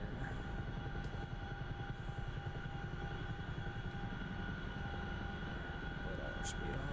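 Helicopter setting down to land in the DCS flight simulator, a steady droning engine and rotor hum that holds level from start to finish.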